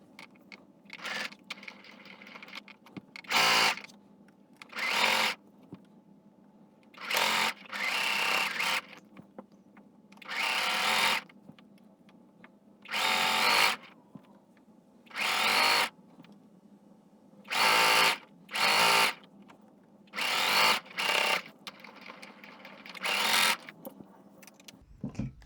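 A sewing machine runs straight stitches along a half-inch hem on a dress made from palazzo pants, in repeated short bursts of fast whirring separated by quiet pauses, close and clear with no talking.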